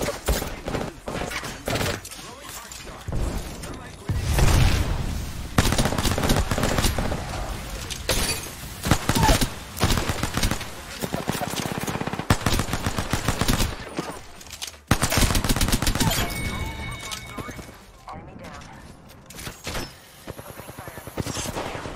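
Wingman pistol fire in Apex Legends mixes into a chaotic firefight, with repeated sharp shots, shattering and other gunfire layered over game noise and occasional talking across a long stretch.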